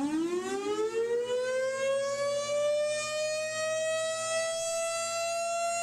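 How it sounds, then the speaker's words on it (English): A single-tone tornado siren winds up from a low pitch to a steady high wail, then holds one sustained loud tone with rich harmonics, alone and with no voices. "First off, you have a single tone siren"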